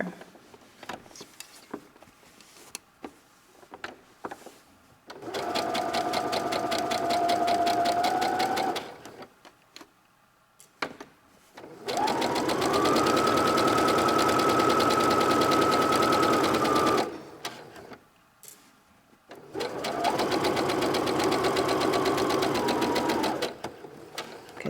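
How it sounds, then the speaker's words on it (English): Sewing machine stitching fabric for a tote bag, three long steady runs of rapid mechanical whirring separated by pauses with faint handling clicks, close and loud. "So I'm going to sew all the way up to the top of the fabric here"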